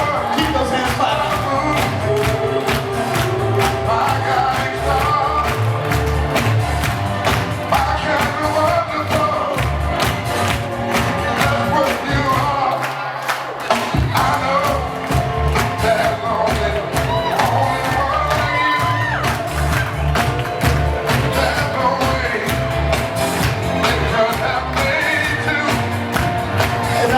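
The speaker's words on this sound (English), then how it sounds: "Keep those hands clapping." Wedding reception guests keep up continuous clapping and crowd noise over loud music, a dense, sustained wash of sound with a brief dip midway.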